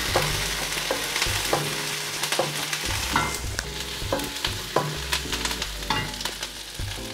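Mixed devil of kingfish, mutton, chicken, prawn and paneer stir-fried with plenty of curry leaves, a close sizzle broken by repeated clanking scrapes of a spoon against the pan, with no voices.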